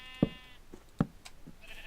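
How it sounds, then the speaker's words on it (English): Two short bleats from a sheep in the Minecraft video game, about three-quarters of a second apart. Each is a clipped, moderately loud call, with faint game sounds in between and no talking. "Move away, sheep."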